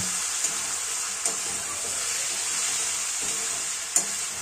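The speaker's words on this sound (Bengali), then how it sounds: "ঢাকনাটা তুলে নিয়ে আমরা সব কিছু ভালোভাবে একটু নাড়াচাড়া করে নেব" Chicken dish frying in a pot, stirred with a utensil: steady close sizzle throughout with a few sharp scraping knocks of the spoon against the pot.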